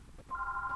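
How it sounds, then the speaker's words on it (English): A phone rings indoors with a thin, steady electronic tone that starts partway in and holds on, quiet and plain against a soft room background. "Oh, there goes my phone, of course. Let's let it ring through."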